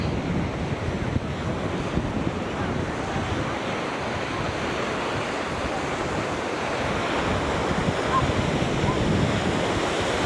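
Ocean waves wash continuously onto a Florida beach, a steady loud roar of surf mixed with gusty wind buffeting the microphone.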